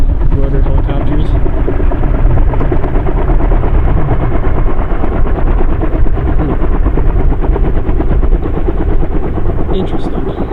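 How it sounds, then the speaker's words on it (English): A twin-rotor helicopter flies nearby over a mountain road ravine, a loud steady thudding rotor roar that fills the whole stretch without letup. "That's one of those weird twin scroll rotor helicopters."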